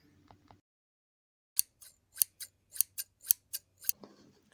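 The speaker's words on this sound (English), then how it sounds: "Start by folding the fabric and cutting through the center of the pocket opening as you see me do." Scissors snip through fabric to open a welt pocket, a run of about eight crisp, close cuts in quick rhythm after a short pause, alone and near.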